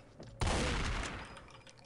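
A shotgun blast in Half-Life, one sudden loud boom with a long noisy tail fading over about a second.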